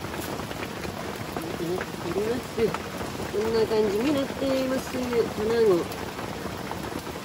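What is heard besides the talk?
heavy rain falling at a lakeside campsite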